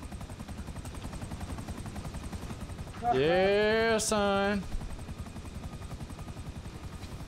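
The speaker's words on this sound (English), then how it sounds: "That's our chopper, right?" Helicopter in the GTA FiveM roleplay game, a steady rotor chop throughout that swells louder for a second or two in the middle, with someone briefly speaking over it.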